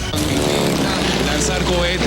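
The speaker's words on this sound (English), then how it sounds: "Dangerous rebel planes buzz the government palace." Rebel military planes buzz low over the government palace in Caracas, a steady loud droning engine roar filling the scene throughout, with crowd noise mixed in beneath.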